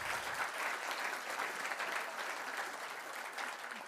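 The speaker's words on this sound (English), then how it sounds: "Can we give AmeriCorps a round of applause" Audience applause for AmeriCorps at a national service awards ceremony, a dense, steady roar of clapping from a large crowd that sustains evenly and tapers slightly at the end.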